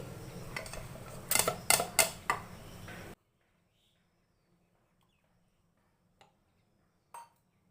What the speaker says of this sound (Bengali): এখানে আমি দইটাকেও ফেটিয়ে নেব